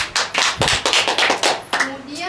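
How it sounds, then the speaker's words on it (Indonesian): A classroom of students claps for a classmate, a quick burst of several hands that runs for a couple of seconds, with a voice briefly audible. "boleh tepuk tangan untuk Mbak Iva"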